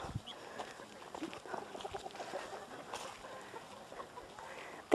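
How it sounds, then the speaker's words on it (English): Several chickens cluck and murmur close by in a busy farmyard chorus, irregular soft clucks overlapping throughout at moderate volume. "There's our chickens."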